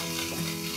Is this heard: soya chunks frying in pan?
yes